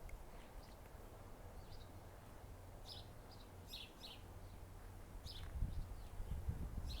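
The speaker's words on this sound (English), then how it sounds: "You can hear the birds out here singing." Birds call and chirp in scattered bursts outdoors, moderately distant over a steady low background hum, with brief louder rustling or knocks near the end.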